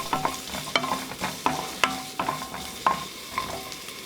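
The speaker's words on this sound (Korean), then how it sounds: "식용유 2스푼, 당근 넣어 볶아주세요." Carrots stir-fry in oil over high heat for a squid stir-fry. A spatula scrapes and knocks against the pan in steady, repeated strokes over a continuous sizzle, heard up close with no talking.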